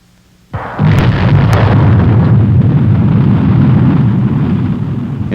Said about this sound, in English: In February 1960 at Canaveral, Pershing's first launching proceeded smoothly.